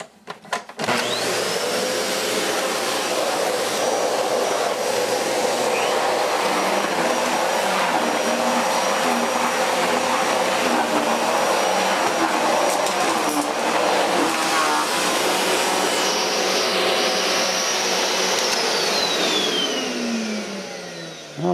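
A repaired Kenmore canister vacuum cleaner with PowerMat and a new HEPA filter whirs up to speed and runs at a loud, steady roar close by, then starts winding down at the end.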